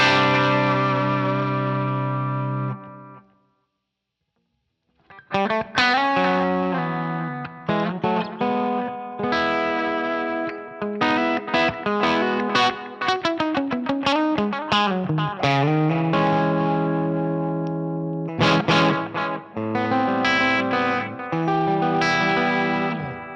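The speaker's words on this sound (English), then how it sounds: "I've just got a tube echo on here, so I'll just bring the gain back down so we can hear it just a touch." Electric guitar played through a Line 6 HX Stomp with tube echo and gain, a sustained chord fading into a pause, then busy picked riffs and chords with repeating echoes and ambient tails.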